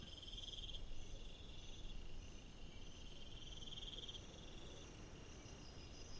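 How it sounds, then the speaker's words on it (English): Crickets chirp in a steady, faint, continuous high trill that holds throughout, with no voices. "You can hear the crickets right now,"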